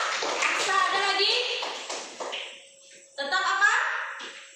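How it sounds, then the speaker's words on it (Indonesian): Children in a classroom clap for their classmates, a scattered patter of hands mixed with young voices and an adult talking over it, fading briefly before a second burst of clapping and chatter. "tepuk tangan untuk teman-teman"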